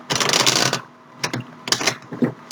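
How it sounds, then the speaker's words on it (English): Tarot cards being shuffled on a table, two or three quick bursts of riffling and rustling separated by short pauses, close and fairly quiet. "Going to give those a quick shuffle, so hopefully they don't keep flying across the table."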